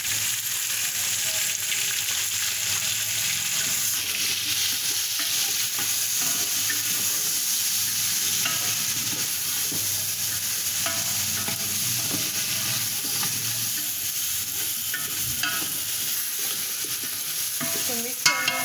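A spoon stirs tomatoes and spices into a pan of frying mutton biryani masala, with a loud, constant sizzle and scraping running without pause and no talk.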